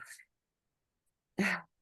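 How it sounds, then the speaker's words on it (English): A single sharp sneeze bursts out after a faint breathy sound and a short pause, close and fairly loud. "sorry, sneezing"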